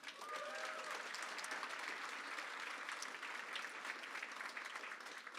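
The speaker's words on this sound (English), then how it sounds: "Please give a round of applause for John." Steady applause from an audience at a mayor's re-election announcement, sustained and fairly even in level for several seconds, with a faint voice briefly audible near the start.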